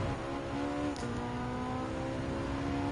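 Ferrari 458 Italia engine racing in Gran Turismo 7, a loud, continuous high-revving whine that dips briefly with a gear change before pulling steadily up again.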